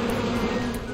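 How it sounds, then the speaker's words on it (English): Cartoon bees buzz in a steady, close, droning hum for about a second, a continuous insect-like whine with no talk over it. "The bees are back!"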